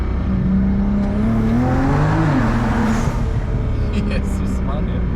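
A 2006 BMW 335i E92 engine revs hard close by, its rising and falling exhaust drone steady across the clip, with faint crackling pops near the end and a voice talking over it.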